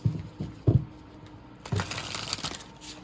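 Tarot cards are shuffled in a few quick riffling bursts, close and fairly quiet, then a longer rustling shuffle follows.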